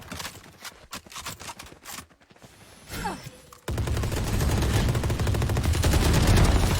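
Gunfire in a first-person video game shooter: a few scattered shots, then a loud, dense, continuous burst of rapid automatic fire that runs to the end.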